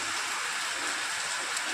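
Steady rain falls without pause during a heavy downpour, a dense even hiss with no breaks and no voices.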